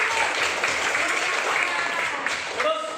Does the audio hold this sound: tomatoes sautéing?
no